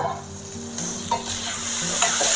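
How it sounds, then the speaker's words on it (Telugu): Brinjal sizzles and crackles in a hot pan, a steady close frying hiss that grows slightly louder, with occasional light clinks of stirring. "ఇవి వంకాయలు మగ్గుతున్నాయి కదా"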